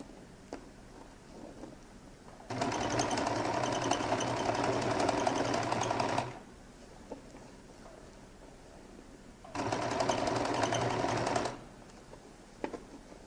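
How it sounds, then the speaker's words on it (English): Sewing machine stitching a lady's jacket lining, two steady whirring runs of about four and two seconds, close and moderately loud, separated by quiet pauses. "And now begin to stitch till I get to the end, or at least as close as possible to the end."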